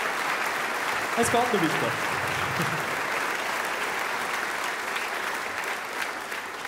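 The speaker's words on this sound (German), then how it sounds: "da müssen wir nicht so lange klatschen" Concert audience applauding through a live show, a steady dense wash of clapping from start to end with a voice speaking briefly over it.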